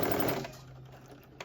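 A sewing machine stitches a waistband seam on a sweatsuit in a short, close burst of whirring that fades quickly, followed by a faint click.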